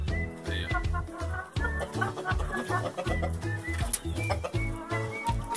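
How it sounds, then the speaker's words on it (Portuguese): A rooster among large, fast-growing chickens clucks in rapid, repeated bursts, mixed with other fowl calling nearby. The calls are close, busy and continuous, with no talking. "Olha aí que galo lindo"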